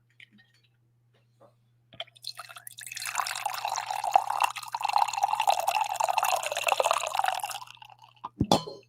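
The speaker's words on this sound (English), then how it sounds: "I think I have enough for one more coffee pour here." Coffee pours into a cup in a single continuous stream lasting about five seconds. It follows a few faint clicks, sits under a low steady hum and is close and fairly quiet, with a brief clatter at the end.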